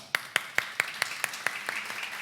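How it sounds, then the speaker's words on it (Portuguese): A handful of distinct claps in a steady rhythm at a church service, about nine sharp hits, fairly close and fading slightly toward the end. "Vamos dar uma moção de aplausos, vai."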